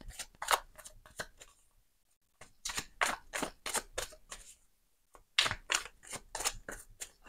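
Oracle cards shuffled by hand in a quiet room, a run of crisp riffling flicks in three close bursts separated by short pauses, no talking.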